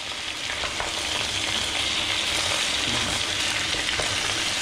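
Wood pigeons sear in a hot frying pan, giving a loud, steady, dense sizzle with crackling spatter that runs unbroken throughout.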